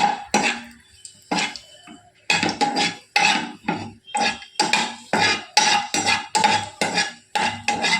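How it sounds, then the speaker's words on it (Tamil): Tamarind and six dried red chillies are roasted in a pan, heard as a series of sharp metallic scrapes and clanks of a spatula against the pan in irregular bursts, close up, with no one speaking. "இதில் ஒரு சின்ன நெல்லிக்காய் அளவு புளி, ஒரு 6 வரமிளகாய், இதை நல்லா வறுத்துக்கிடுவோம்."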